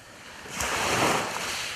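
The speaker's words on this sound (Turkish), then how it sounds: "Bazen sessiz, bazen dalgalı olan Isık Göl." Waves wash on Issyk-Kul lake in a steady, rushing swell that builds and then holds, with some wind noise and no voices.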